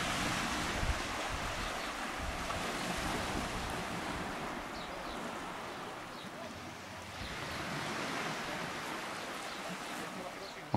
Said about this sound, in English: they're enjoying the sounds of the sea